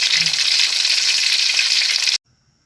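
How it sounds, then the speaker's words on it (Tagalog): Two tilapia fish frying in cooking oil, a steady loud broadband sizzle that runs unbroken for about two seconds, then cuts off abruptly into near silence. "So tapusin ko muna yung pagpiprito ko ng dalawang tilapia, guys."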